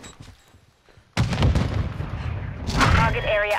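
A grenade explosion in a military video game bursts in loudly and abruptly after a quiet lead-in, followed by sustained rumbling gunfire-like noise, with a voice speaking near the end.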